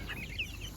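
Young Araucana chickens and roosters cluck softly on a summer farm, a single brief higher call rising once over a low, steady outdoor rumble.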